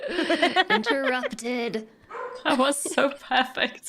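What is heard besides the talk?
dog barking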